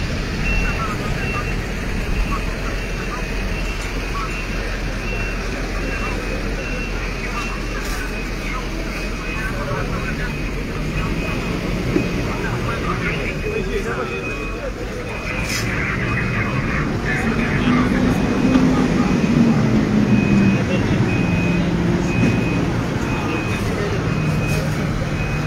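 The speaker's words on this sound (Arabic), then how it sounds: "شاحنة الإطفاء الآن تقدم للأمام، ربما" A fire truck at a blaze in a tyre shop in Marrakech gives a steady, repeating reversing beep while its engine rumbles. The scene is loud and busy, and voices talk throughout.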